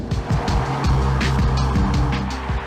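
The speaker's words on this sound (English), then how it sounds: "this thing has a twin-turbocharged 6-litre W12 engine" A Bentley Continental GT with a twin-turbocharged 6-litre W12 engine drives along, its engine droning close and loud with rising and falling harmonic tones as it changes pace, mixed with road and tyre noise.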